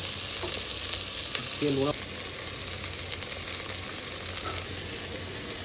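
Onions fry in oil for palak chicken, a loud close hiss that drops to a softer steady sizzle partway through, with a brief spoken word at the start.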